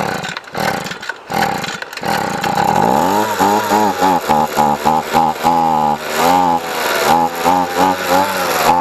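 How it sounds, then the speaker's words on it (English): A Ryobi leaf blower's small two-stroke engine runs on its own after a dose of starting fluid. It sputters at first, then holds a loud, close, raspy drone that rises and falls as the throttle is worked. "Well, it's definitely running on its own right now."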